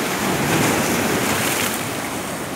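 Sea waves wash and slap around a small fishing boat out on bluefish fishing, a continuous churning surf mixed with gusty wind buffeting the microphone, loud and close, with no talk.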